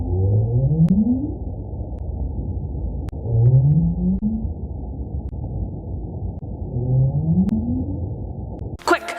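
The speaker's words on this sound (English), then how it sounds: "This sound is coming from the North Atlantic right whale" North Atlantic right whale calls picked up on a hydrophone, three low upsweeping moans repeated at regular intervals over a rumbling underwater background.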